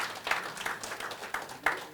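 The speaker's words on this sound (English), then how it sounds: "A clap for Dr. Wale before he stands." An audience applauds Dr. Wale at a Kisumu quiz night, with scattered claps rising into several short bursts at moderate loudness across the room.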